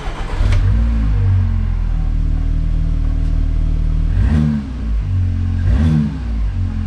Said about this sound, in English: Here's a cold start I filmed on a GoPro.